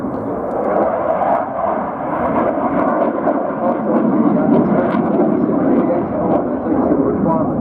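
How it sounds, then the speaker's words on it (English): Two Eurofighter Typhoon jets closing on a C-130 Hercules in an intercept display at the Royal International Air Tattoo, a broad, rumbling jet roar at a distance, continuous and swelling slightly. "here we see the two Typhoons closing on that aircraft, which is being depicted by the C-130 Hercules"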